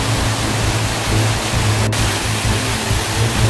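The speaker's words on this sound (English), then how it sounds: "It's like endless waterfall." A steady, dense rush of falling water, loud and unbroken, from Mancar Sebako waterfall in Borneo heard up close.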